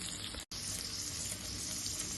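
Sliced medium onions with salt sautéing in a pan, a steady close hiss of frying with a brief cut near the start.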